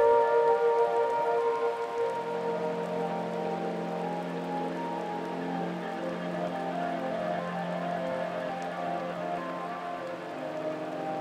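Rain falling on cane roofs of a Guaraní family home, a steady, dense patter heard from inside, continuous and moderately loud with no one speaking.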